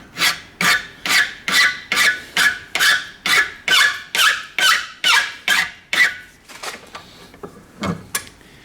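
A slot in the woodwork of an 1865 Forster & Andrews pipe organ is scraped while held in a vise, giving about a dozen loud, rhythmic rasping strokes up close before they slow into a few lighter, scattered scrapes.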